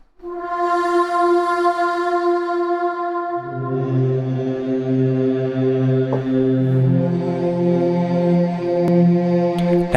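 An Xfer Serum synth preset from a cinematic sound pack with a vocal-like tone plays alone: a sustained bright pad that shifts after a few seconds into a fuller, lower chord and holds steadily.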